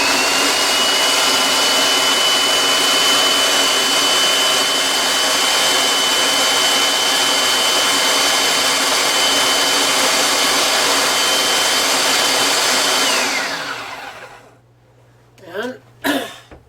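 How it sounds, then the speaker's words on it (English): Blender running at full speed to puree potato soup with the lid on, a loud, close, continuous whirring roar that spins down at the end, followed by a couple of brief sounds. "Put on our lid and we puree the ever-living daylights out of this."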